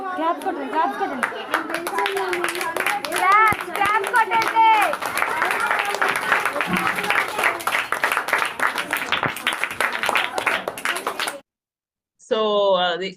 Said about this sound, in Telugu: క్లాప్ కొట్టండి క్లాప్ కొట్టండి